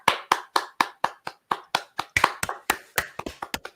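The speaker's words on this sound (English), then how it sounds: "come on, big clap to Charmaine" Sharp, distinct hand claps heard through a video call, a steady run of single claps at first that turns into quicker, uneven clapping.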